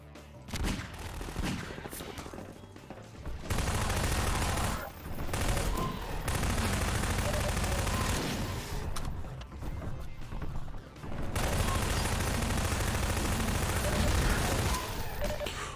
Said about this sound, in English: I hear somebody else shooting.